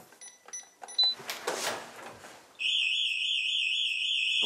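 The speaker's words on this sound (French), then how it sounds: "Donc là, je vais activer l'alarme." A home burglar alarm is armed: a few beeps and handling clatter, then a loud, continuous warbling electronic siren sounds close by and holds steadily.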